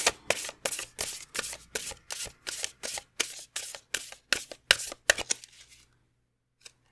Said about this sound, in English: Let's keep drawing cards.